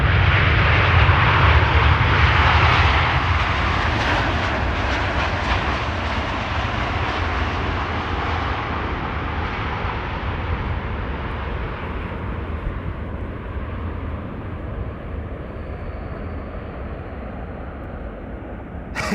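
Airbus A350 jet arriving at Amsterdam Schiphol Airport, a broad steady engine roar that starts loud and slowly fades as the aircraft moves away, with no talking.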